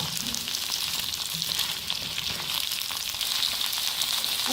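Okra frying in a pan with onion, a steady close sizzle with faint scraping from stirring throughout.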